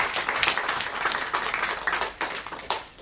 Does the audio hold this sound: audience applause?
yes